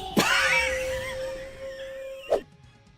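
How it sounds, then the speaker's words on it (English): A dog in the ninja action game Shinobi: Art of Vengeance lets out a long, steady howl-like cry, opening with a sharp burst and cut off by another abrupt accent, heard alone without talk. "I get to ride the dog?"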